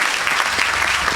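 Audience applause at a church healing and deliverance service, a dense steady wash of many hands clapping close and loud throughout, with faint crowd voices beneath.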